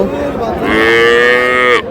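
A single long, loud moo from a young calf at Raniganj cattle market, close by, rising and holding steady for nearly two seconds before cutting off.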